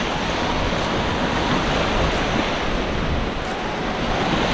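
Sea waves and wind on a Koh Samet beach at Ao Lung Dam bay, Thailand, heard as a steady, loud, broadband roar of surf with wind rushing across the microphone, continuous and with no voices.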